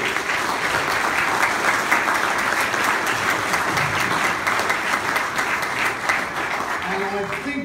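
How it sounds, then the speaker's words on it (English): An audience claps in sustained, dense applause at a corporate showcase event, steady and full throughout, with a voice faintly audible toward the end. "Can I ask Andy to come up with a thunderous round of applause?"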